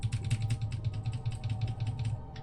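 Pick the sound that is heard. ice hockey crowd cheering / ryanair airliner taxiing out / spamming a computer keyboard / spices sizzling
spamming a computer keyboard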